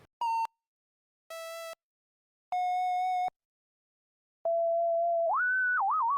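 A synthesizer plays a triangle wave as a series of separate pure tones, short beeps at different pitches with gaps between, ending in a longer sustained note that slides and wobbles in pitch.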